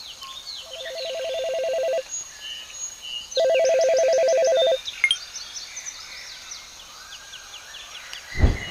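A phone ringtone plays in two sustained, steady electronic bursts, each about a second and a half long, with quiet room ambience between and after them and no talking.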